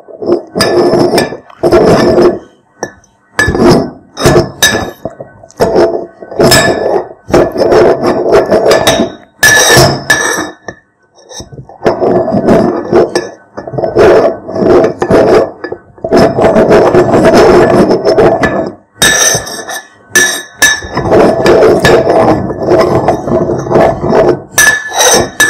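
Ingredients are mashed with honey in a pot, giving repeated close clinks and knocks of utensil on pot in an irregular rhythm with brief pauses.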